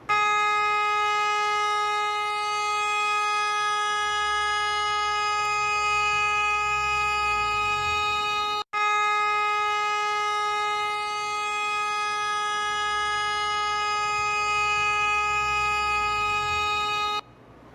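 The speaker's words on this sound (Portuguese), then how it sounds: "E a buzina ficou ali, né?" A car horn stuck on after the car mounted a curb, hit a low wall and caught fire in Anápolis, blaring one loud continuous tone, briefly cutting out midway, then holding steady again.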